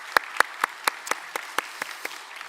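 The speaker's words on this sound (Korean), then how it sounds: "우리 찬양대회 박수 한번 할까요?" About ten slow, separate claps sound at an even pace in a church during a Wednesday worship service, fairly close and fading slightly toward the end, with no one talking.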